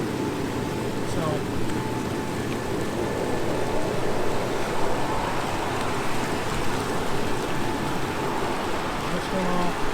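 Hot tub air jets with the air valves open churn the spa water into a dense, steady bubbling roar, loud and close, holding at an even level with no pauses.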